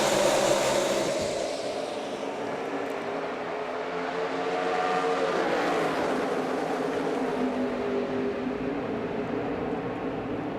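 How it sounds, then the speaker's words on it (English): NASCAR stock cars roar away at the green-flag start of the Sprint All-Star Race, a dense, continuous engine drone from the pack that swells and shifts in pitch as cars pass, loud and steady with crowd noise blended underneath. "Green flag, the Sprint All-Star race is underway."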